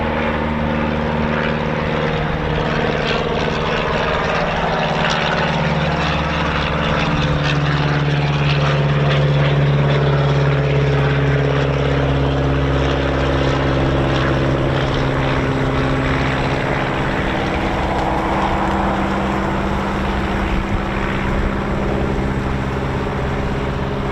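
A de Havilland Chipmunk propeller aircraft runs at RAF Coningsby, its engine a loud, steady drone that holds throughout with a slight swell in the middle.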